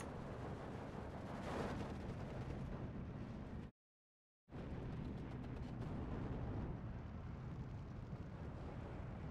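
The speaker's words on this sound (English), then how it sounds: "These are still the mortars trying to get the howitzers." Mortar shells fire and burst in a Steel Division II battle, a steady stream of booming explosions and rumbling blasts that drops out for about a second before the barrage resumes at full volume.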